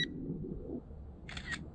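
The camera shutter on a ZLL SG908 KUN three-axis gimbal drone fires once for a photo: a brief, light electronic click pair over a steady low hum of background noise, with no talk.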